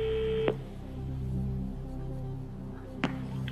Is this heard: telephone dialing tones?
yes